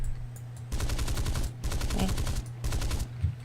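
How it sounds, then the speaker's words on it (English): Loud bursts of M3 machine guns and cannons fire from a Grumman F9F jet in War Thunder: three long, rapid rattling volleys separated by short gaps, with one brief spoken word. "That's M3 machine gun, cannons"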